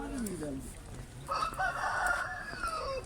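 A rooster crows once nearby, a long rising and falling call, while hens cluck and voices murmur in the background at a market in Bozkır, Konya.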